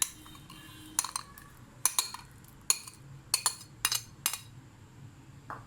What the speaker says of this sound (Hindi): और चम्मच की मदद से ही हम इनको अच्छी तरह से मिक्स कर लेंगे।